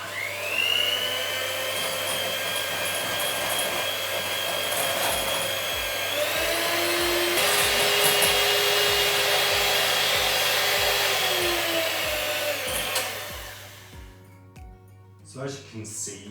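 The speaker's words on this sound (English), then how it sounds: "by whisking eggs up quite a bit, it will add a little air" Eggs are whisked hard for fudgy brownie batter, giving a steady mechanical whirring whine that shifts in pitch partway through before stopping near the end, leaving quieter background sounds.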